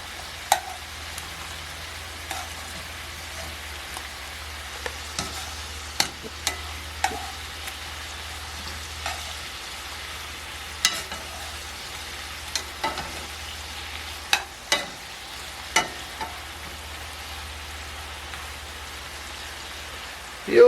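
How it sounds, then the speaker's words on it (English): Vegan bacon glazes in a hot pan, giving a continuous soft sizzle broken by scattered sharp clicks and taps as the strips are turned over again and again. "you keep turning over the bacon, so it gets like glazed"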